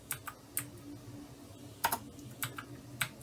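Scattered keystrokes on a computer keyboard with an unreliable 5 key: sparse, quiet clicks in an irregular rhythm, heard alone against a soft room hiss.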